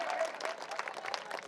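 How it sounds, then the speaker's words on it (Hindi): Audience applause greeting a poet at a 2018 all-India mushaira in Azamgarh: a steady wash of clapping from a seated crowd, continuous and fairly even for the whole moment, with a faint voice briefly audible over it. "इन तमाम लोगों के लिए शानदार तरीके से तालियों के साथ इस्तकबाल कीजिए"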